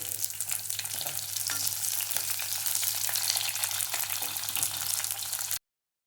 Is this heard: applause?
no